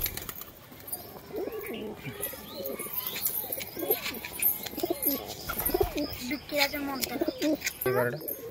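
Pigeons cooing in soft repeated throaty calls, mixed with chirps and scattered background clatter while people talk nearby.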